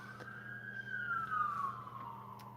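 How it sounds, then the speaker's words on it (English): Ambulance sirens passing outside, heard faintly from a distance as a single rising and falling wail that swells and fades, indoors with a low background hum. "I hear the ambulances."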